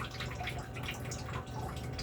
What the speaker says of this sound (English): Well, stop the dripping, Avi.